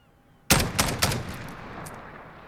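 A single crisp rifle shot cracks out at half a second from an MK 20 SSR in Call of Duty Modern Warfare, followed by two quicker follow-up shots and a long decaying echo tail.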